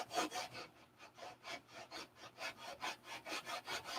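Sandpaper rubs back and forth over wood in an even, steady rhythm of about three strokes per second, close and fairly quiet, with no other sounds.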